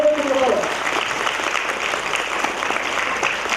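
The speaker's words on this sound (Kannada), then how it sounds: "ಅವರಿಗೆ ನಮ್ಮ ನಿಮ್ಮಗಳ ಪರವಾಗಿ ಜೋರಾದ ಚಪ್ಪಾಳೆಯನ್ನು ಕೊಡೋಣ" A school annual day audience breaks into sustained, even applause, with a voice briefly audible at the very start before the clapping takes over.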